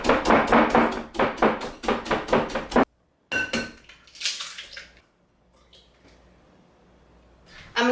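Overripe bananas being mashed hard in a bowl, a rapid run of wet squishing strokes up close, then a pause, a few scraping clinks and quiet.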